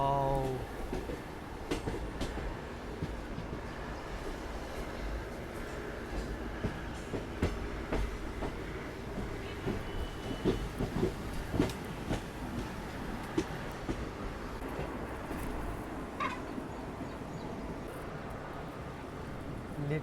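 The Harihar–Hospet passenger train runs on its rails in Karnataka, a continuous rumble with clattering wheel beats and rattling carriages heard from on board, steady and moderately loud, with a faint voice now and then.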